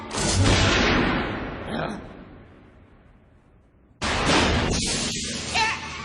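Cartoon gunfire effects in an animated episode: a loud, broadband volley of blasts that slowly fades, then a second sharp burst after a lull, all mixed with voices talking.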